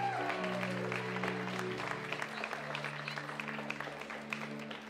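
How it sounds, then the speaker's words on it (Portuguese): Applause from a church audience for a group of boys, a dense wash of clapping under steady sustained organ or keyboard tones, fairly close and continuous throughout. "Aplausos para os meninos."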